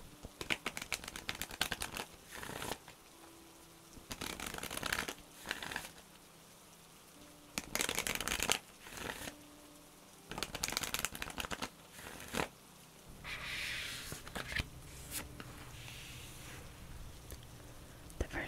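Oracle cards being shuffled during a tarot-style reading, heard as bursts of dry, rapid riffling and patter that come and go over about eighteen seconds, close and moderately loud, with short quiet gaps between shuffles.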